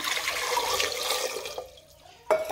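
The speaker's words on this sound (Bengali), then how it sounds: "দিয়ে দিব পরিমাণ মতো জল" Water splashes and pours steadily into a pressure cooker holding four eggs, close and moderately loud, tapering off before a brief clink at the end.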